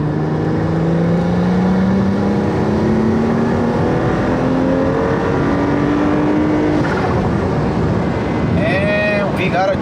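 A BMW 335i engine roars under full throttle, its pitch climbing steadily through the gears, loud and close inside the car, with a brief electronic chime near the end.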